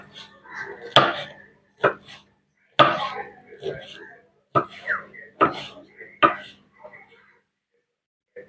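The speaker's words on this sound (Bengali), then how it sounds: "এইভাবে আমি সব ফুলগুলোকে কেটে নেব" A knife chops pumpkin flowers into thin strips on a board, with sharp, distinct cutting knocks in uneven bursts and clear gaps of silence between them.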